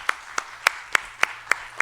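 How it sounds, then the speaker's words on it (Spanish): Sharp, evenly spaced claps, about seven in under two seconds, ring out in steady rhythm at a national social security congress session, fairly close and with no talk over them. "Creo que se merece un aplauso."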